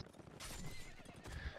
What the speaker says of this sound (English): horse goes down in the middle of a bunch of BKS